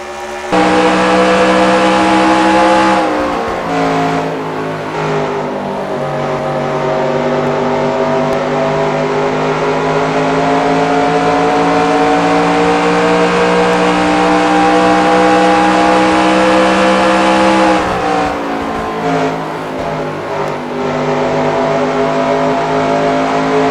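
A race truck engine drones loudly from onboard in a sim racing game at the Copper World Classic, a sustained harmonic roar with steady revs and a couple of dips for shifts or corners.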